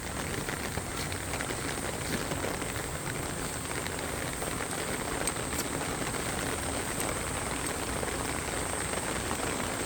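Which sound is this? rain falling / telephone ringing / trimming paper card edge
rain falling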